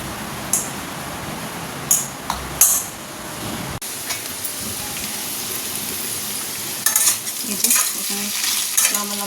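A paratha cooks in a hot pan in a home kitchen, giving a steady close sizzle broken by sharp spatula scrapes and clinks, with no voices.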